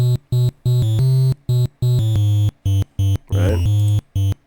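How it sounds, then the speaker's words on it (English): Chiptune melody from an 8-bit triangle oscillator synth layered with an NES-style triangle wave, loud and clean in choppy stepped notes with short gaps, a brief noisy swish partway through. "I used triangle oscillators because of course I did. And then I realized, okay, well, what if I layered it with the NES version of the triangle."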